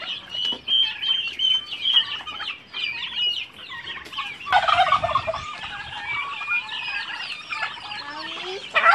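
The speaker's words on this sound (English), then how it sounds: "So many chicken." Turkeys gobbling and chickens clucking together at feeding time, a dense, continuous flock chorus of overlapping calls, close and loud, swelling fuller midway through.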